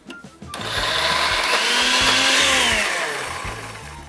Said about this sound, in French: on va venir directement verser l'huile chaude dans le bol du mixeur